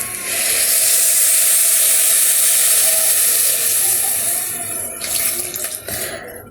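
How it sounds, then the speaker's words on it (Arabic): Boiling water pours from a kettle into a pot of rice mixed with seasoning, a steady hissing, splashing rush that tapers and breaks into drips and clinks near the end. "هضيف بقى المية المغلية."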